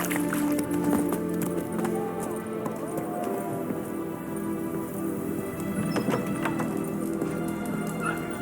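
A horse gallops steadily in The Witcher 3, its hooves making a continuous rhythmic clip-clop close by under a steady game backdrop, with a faint voice at moments.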